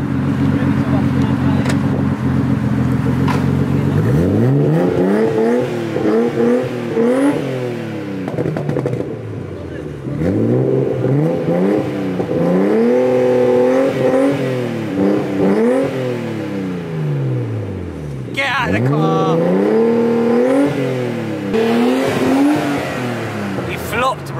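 A Nissan Skyline Tommy Kaira Edition engine revs repeatedly, close and loud, each throttle blip rising and falling in pitch, with people talking throughout.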